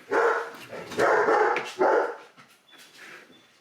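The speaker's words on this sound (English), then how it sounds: "Just excuse the dogs." Several loud dog barks come in quick bursts close by, followed by fainter yips and whimpers as the barking dies down.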